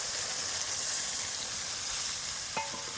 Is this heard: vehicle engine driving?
no